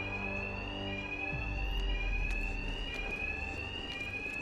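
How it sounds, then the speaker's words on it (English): An alarm rings steadily in the video game Batman Arkham Knight, a continuous high electronic tone with harmonics that holds at even loudness throughout, joined by a faint low thud midway, with no speech. "My attacks will be covered by the noise of the alarm."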